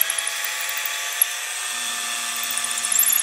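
A power drill bores pilot holes into a piece of driftwood for a basket handle, a steady high-pitched whine held at close range and running unbroken with no talk.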